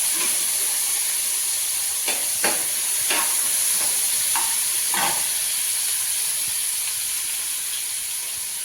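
Cauliflower fries in hot oil in a home kitchen, giving a loud, steady hiss of sizzling throughout, with a few soft stirring scrapes near the start and no talk.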